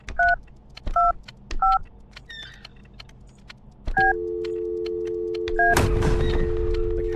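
Phone dialing inside a video game: a few separate two-tone keypad beeps, then a steady dial tone mixed with a burst of noise, clear and close with no talking.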